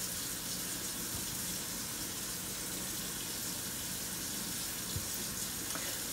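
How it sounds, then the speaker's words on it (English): Tap water runs steadily into a kitchen sink while bell peppers are rinsed out inside, a constant close hiss and splash with no talking. "So again, I want to rinse the inside out."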